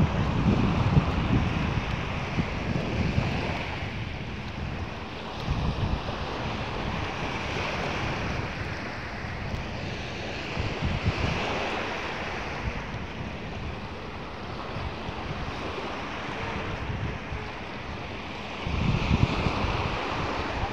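Sea waves roll steadily onto Al Quorum beach in Oman, a continuous wash of surf blended with gusty wind buffeting the microphone, with a slightly louder surge near the end and no voices.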